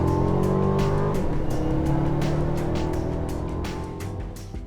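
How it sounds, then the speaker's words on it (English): A 2020 Mercedes-Benz CLA 250 with a seven-speed dual-clutch gearbox accelerates hard, its engine note climbing steadily and loud from start to finish, with no talking. "the engine sounds lovely when you work it"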